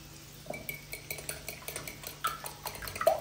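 Eggs and salt being whisked in a mixing bowl, with a quick, steady run of light metallic clinks and scrapes that comes through close and clear, no voices.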